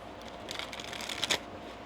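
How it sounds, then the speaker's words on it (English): A deck of tarot cards shuffled close by, a soft quick riffling burst that builds and peaks briefly before stopping, quiet overall. "One more shuffle."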